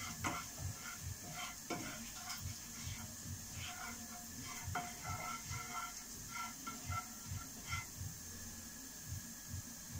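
Broccoli and cauliflower rice sizzles in a pan with a soft, steady hiss, broken by rhythmic scraping and stirring strokes that repeat throughout, faint and close.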